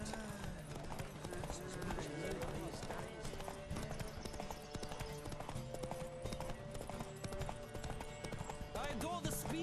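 Horses gallop in a race on Zerrikanian Bay in The Witcher 3, with rapid, rhythmic clip-clop hoofbeats running steadily over a busy game soundtrack.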